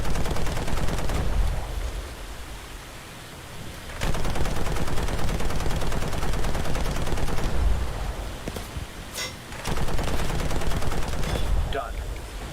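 Gunfire in the War Thunder video game, rapid machine-gun bursts rattling in sustained strings with a short lull between volleys, loud and close.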